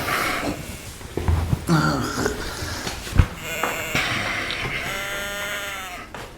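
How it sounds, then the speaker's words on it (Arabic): A sheep bleats with a long, wavering cry toward the end, preceded by shuffling, thumps and scattered household noise nearby. "خروف."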